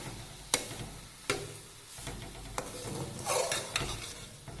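Grated carrot halwa sautéed in ghee, a soft steady sizzle broken by several sharp spoon scrapes and knocks against the pan as it is stirred.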